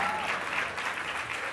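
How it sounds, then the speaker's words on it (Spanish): Audience applause at a comedy show, a steady dense wash of clapping from a crowd, loud and sustained throughout with no pauses. "Aplaudan a él."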